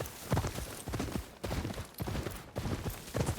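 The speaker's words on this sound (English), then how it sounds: "That's the sound this horse makes." Horse hooves galloping in the video game Ghost of Yotei: steady, rhythmic clip-clop hoofbeats in repeating clusters, fairly close and moderately loud, with no talk over them.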